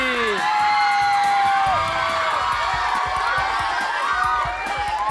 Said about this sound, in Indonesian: Tepuk tangan sekali lagi untuk Dewi D. Lestari.